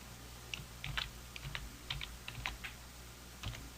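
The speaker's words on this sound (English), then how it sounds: "simply use the keyboard to go back to the original spelling" Computer keyboard typing while correcting a misrecognized word in medical dictation software, a quick run of crisp, irregular key clicks close by, fairly quiet over a steady low hum, with no voices.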